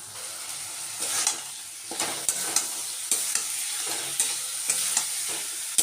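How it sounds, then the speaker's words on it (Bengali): Spiced masala frying with potatoes and taro in a pan, stirred with repeated scraping strokes over a steady close sizzle, the scrapes coming in uneven bursts. "মশলাটাকে ভালো করে কষিয়ে আলু কচুর বাটিটা অ্যাড করে দেবো"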